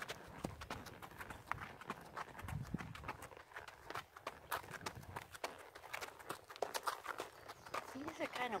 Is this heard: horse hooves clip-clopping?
yes